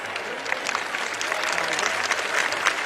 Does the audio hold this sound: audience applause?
yes